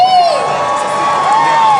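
A large crowd at a Liverpool comic convention panel cheers and whoops loudly, with high-pitched shouts and sustained excited yells filling the hall.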